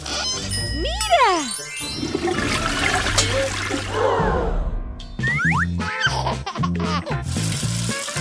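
Cartoon-style toilet flush with a rushing swirl of water, surrounded by bright jingling, dinging and boinging effects and short voiced sounds, all loud and close.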